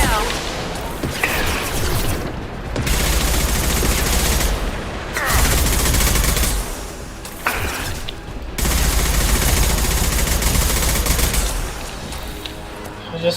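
Sustained automatic gunfire from the video game Mass Effect 2, dense rapid bursts lasting several seconds each with short pauses between them, loud and close.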